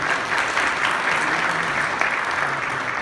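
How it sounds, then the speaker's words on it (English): An audience claps in a dense, steady round of applause, loud and sustained throughout with no pauses. "I want you to give them all a big round of applause"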